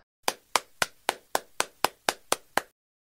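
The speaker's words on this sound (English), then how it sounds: "The girl claps her hands." A girl claps her hands ten times in a steady, even rhythm, each clap sharp and close, heard alone against silence.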